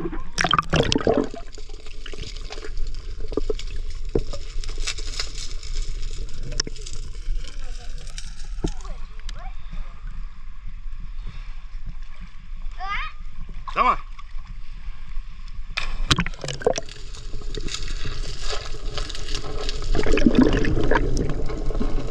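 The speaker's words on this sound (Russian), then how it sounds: "Девочка ныряет." Water splashing as a girl dives in and swims underwater in warm open water, with scattered splashes and bubbling through the stretch, while people talk nearby.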